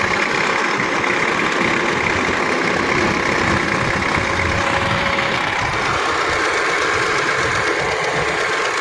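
A Honda CR-V engine runs at idle with a steady, loud mechanical rattle and clatter, continuous and close-up with no pauses.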